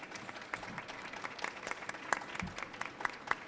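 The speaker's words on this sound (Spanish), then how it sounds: "Un aplauso, por favor." Audience applause at a film festival panel presentation, a steady patter of moderate claps that is fairly distant and fills the room for several seconds.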